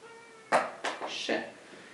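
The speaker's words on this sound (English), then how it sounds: "Kitty, stop screaming. I know you want to eat" A hungry house cat meows loudly and insistently indoors, three or four drawn-out cries in quick succession, close to the listener and with no speech over them.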